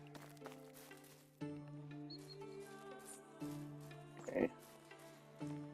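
Pigs in the medieval farming game Medieval Dynasty, heard as short nasal grunts with a bright squeal near the four-second mark, sitting over steady in-game background music and ambience.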